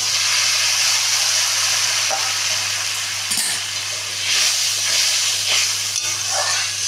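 Water poured into hot spiced oil in a pan for Bengali bhetki fish curry, a loud continuous hissing sizzle and bubbling that holds steady for several seconds, with no voices.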